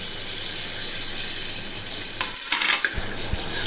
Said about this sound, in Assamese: প্ৰথমে পিঁয়াজ দিছে সেকেণ্ড লং ইলাইচি ডালচেনি গোটেইখিনি তেজপাতৰ সৈতে একেলগে দিয়া হৈছে